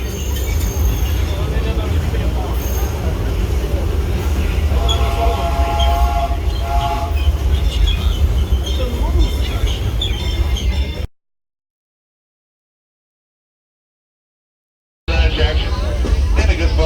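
A Disneyland Railroad excursion train pulled by the Fred Gurley No. 3 steam locomotive rolls along with a continuous loud rumble and clatter while voices speak over it. The sound cuts out briefly, then resumes.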